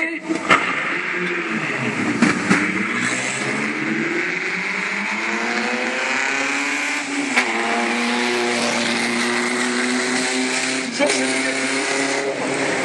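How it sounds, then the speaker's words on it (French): A vintage Bugatti Type 35T race car engine runs loudly up close, revving and rising in pitch with raspy harmonics, while people talk faintly in the background. "il nous fait le plaisir de nous présenter une Bugatti 35T, la numéro 21"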